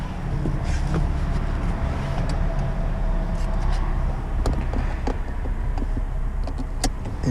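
A 2006-2011 Chevrolet Impala with newly replaced front brake pads is put in drive and pulls away, its engine and rolling noise a steady, close rumble throughout with a few faint clicks and no talking.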